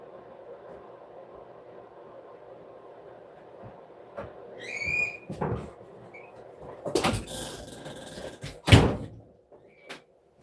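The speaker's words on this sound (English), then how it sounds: "Got to shut my damn room door, my game room door." A game room door is pushed shut with a couple of loud thumps and a clunk, preceded by a few faint bird whistles against a quiet room hum.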